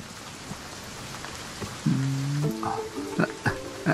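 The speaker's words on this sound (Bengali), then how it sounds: "ভীষণ বৃষ্টি হচ্ছে।" Heavy rain pouring steadily in a dense hiss, with scattered drip knocks and a brief burst of tonal sounds and thumps in the latter half.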